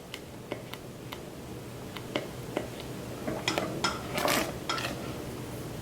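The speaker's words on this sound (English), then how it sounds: "be sure to scrape the sides as you're stirring the caramel" A spoon scrapes and clicks against a pot while caramel for caramel apples is stirred, a series of light metallic ticks and taps, sparse at first and then quicker, faint and close.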